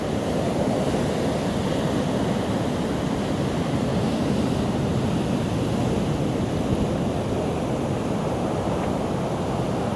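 Steady roar of sea surf breaking along an eroding Zambales coastline where the shore road has been destroyed, loud and continuous with wind noise and no talking.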